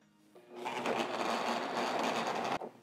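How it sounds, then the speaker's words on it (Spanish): A kitchen blender grinds five chilies, a green chili, tomato and onion, its motor starting with a rising whir, then roaring loud and steady before cutting off abruptly. "Voy a estar moliendo chile, tomate y cebolla"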